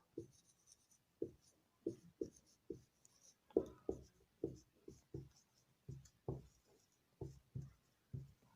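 A sentence written out by hand in a Hindi grammar lesson: a steady run of short scratchy strokes in uneven bursts, close and fairly quiet, with no talking.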